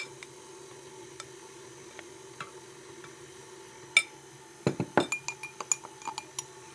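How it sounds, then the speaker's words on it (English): A spoon clinks against a bowl while flour is spooned into butter, sugar and egg cookie batter, a few sparse taps at first, then a quick run of bright clinks, close and quiet. "I'll start spooning that in to the butter, sugar, egg mixture"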